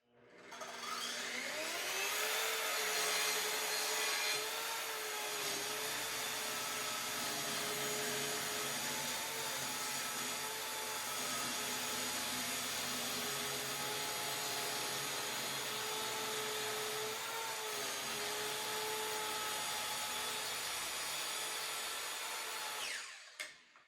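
A power saw rips along a wooden board during a fireplace surround build, a steady loud whining cut that holds for about twenty seconds before spinning down.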